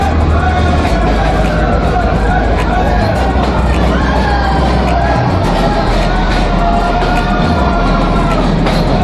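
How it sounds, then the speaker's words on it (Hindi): A passenger train on the Patalpani route begins rolling slowly, its deep continuous rumble and rail noise steady throughout, mixed with crowd chatter and voices nearby. "यहाँ से ट्रेन धीरे धीरे चलेगी।"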